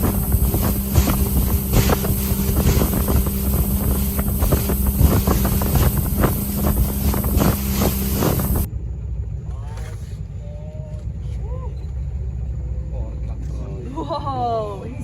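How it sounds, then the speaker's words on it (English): A boat engine on a jungle river cruise near Sandakan drones steadily with heavy wind buffeting for the first half, then drops to a lower rumble while people talk and exclaim over it. "we're on a boat cruise right now"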